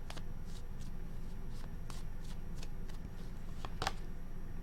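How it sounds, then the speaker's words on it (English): Tarot cards are shuffled close by in a series of soft riffling swishes and flicks, with one brighter snap near the end, over a steady low background hum. "2 shuffles."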